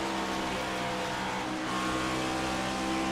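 A race car engine in a video game, a Send It Cup Series race at Dover International Speedway, drones steadily as the driver gets back on the throttle, the fairly quiet, tonal engine note holding throughout.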